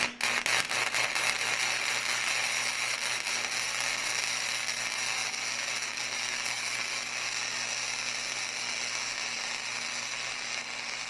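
Flux core welding with a fan blowing across the work, a continuous harsh crackle and buzz from the arc with a steady hum underneath, close and fairly loud and running unbroken to the end.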